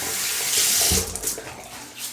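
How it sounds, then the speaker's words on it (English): Water splashed by hand onto a head before shaving, a brief wet splash with dripping over steady running-tap water, close and moderately loud. "I'm just throwing a little bit of water on there."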